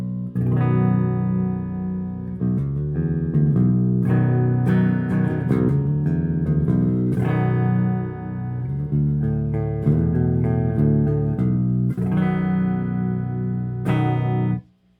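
A Crate G1600XL/GX1600 amp's clean channel, no reverb or bright switch, with an electric guitar in B standard tuning strumming chords and picking notes, clean and undistorted, for several bars before ringing out and stopping.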